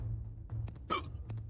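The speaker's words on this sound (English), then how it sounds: "Hiccup." A single sharp hiccup from a person, brief and close, over low steady background hum with a few faint clicks around it.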